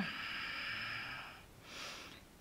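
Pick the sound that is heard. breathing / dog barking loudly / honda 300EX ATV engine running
breathing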